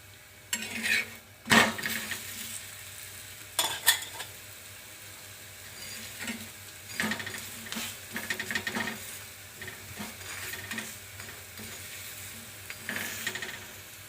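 Dhapate flatbread roasting on a pan over medium gas, a soft continuous sizzle broken by sharp knocks and scrapes as the bread is flipped and turned, close and mostly quiet.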